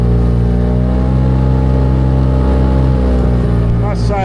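Small outboard motor running in on a boat on a flat calm river, a Honwave T35 AE3 or a Hangkai 6hp: steady, loud, close droning hum with a buzzy engine tone throughout and a slight pitch change near the end.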